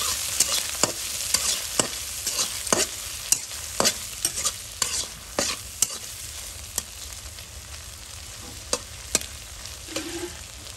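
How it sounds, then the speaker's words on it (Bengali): Prawns frying in hot oil with steady crackling sizzle, punctuated by frequent sharp pops and spatters across a broad hiss, close and fairly loud with no talking. "প্রথম হচ্ছে চিংড়ি মাছ ভাজা নিব তেলের মধ্যে"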